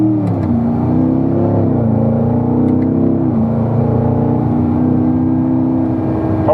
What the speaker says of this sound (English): Start working your way up through the gears.